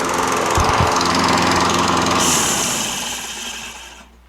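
Toro Recycler self-propelled lawn mower with a Kohler XT675 6.75 engine running loudly nearby, a steady roaring drone that then winds down and cuts off as the engine stops.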